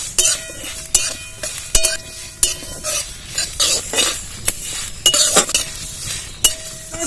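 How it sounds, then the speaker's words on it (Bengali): Whole spices, including fenugreek, fennel, cumin, coriander seeds, white and black mustard and dried chillies, dry-roast in a wok, with repeated metallic scrapes and clinks of stirring over a light dry crackle, close by. "বন্ধুরা খোলায় ভালো করে আমি ভেজে নেবো"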